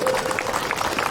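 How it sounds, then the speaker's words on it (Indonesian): An audience at a marching band farewell concert applauds during the official greetings, a dense, continuous patter of clapping that stays steady and moderately loud throughout. "Wakil Bupati Sidendeng Rapang, Ibu Nurkana, tepuk tangan dulu."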